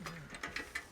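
Allen key tightening screws on a TV lift mounting bracket, giving a few quick close ratchet-like clicks in a short burst.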